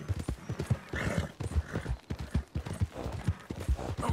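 Horse hooves clip-clop in a steady walking rhythm in the video game Red Dead Redemption 2, close and fairly loud, with no talking over them.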